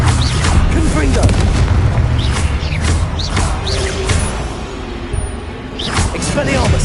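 Confringo blasting spell in Hogwarts Legacy combat, a loud booming burst over dense battle noise with whooshing effects and repeated spell-casting voices.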